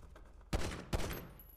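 Two sharp, loud gunshot bursts in a GTA roleplay game, close and punchy about half a second apart, with a third shot starting at the very end.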